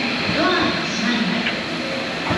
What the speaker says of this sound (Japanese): まもなくホームには普通館林行きの電車が入線してきましたので